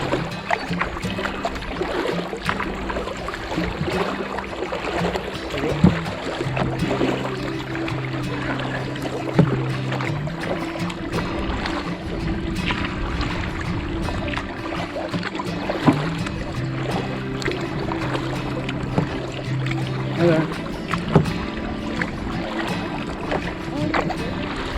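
A kayak is paddled on the Thames River with a continuous wash of water and wind noise, plus occasional dull knocks and splashes from the paddle. Someone talks intermittently over it.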